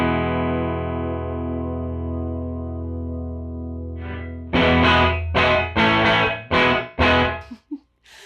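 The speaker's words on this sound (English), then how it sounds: "Now let's add a little bit of reverb." Electric guitar driven through a heavily distorted Death by Audio fuzz pedal with reverb added, first a long sustained chord ringing out, then a series of loud, choppy strummed chords cut off sharply, with a slapback echo tail.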